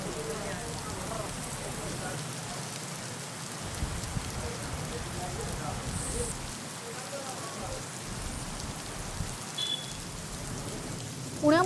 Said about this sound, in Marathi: सातपुडा पर्वतरांगेमध्ये जोरदार पाऊस झाला.